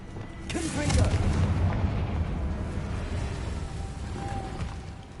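A Confringo explosion spell cast in Hogwarts Legacy, a deep, rumbling blast that swells after a sharp onset and lingers as a low roar fading over several seconds.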